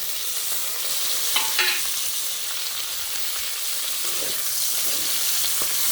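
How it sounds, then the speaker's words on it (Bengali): Chopped onion, tomato and slit green chili fry in a pan with panch phoron, giving a continuous close sizzle and hiss with occasional stirring scrapes, no voices. "কাঁচা লঙ্কা চিরা দিয়ে দিলাম। পেঁয়াজ কুচি, টমেটো কুচি দিয়ে দিলাম।"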